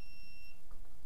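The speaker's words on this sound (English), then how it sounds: "Beeps." A Defiant electronic door handleset lock, freshly fitted with four new AA batteries, gives a faint, thin electronic tone that holds for about half a second against a quiet room background.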